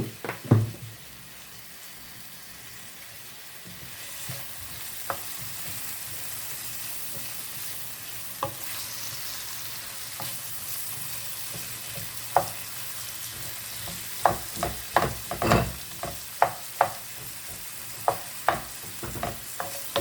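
Onions and seasoning peppers saute in a teaspoon of oil in a pan, a soft steady sizzle with scattered spoon clacks and scrapes that grow more frequent toward the end.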